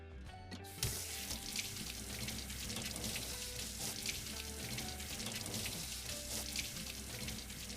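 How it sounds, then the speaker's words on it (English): Water runs steadily from a tap, splashing and hissing without pause as an old nonstick pan is rinsed beneath it after being scrubbed with salt. "rinse it quickly with clean water"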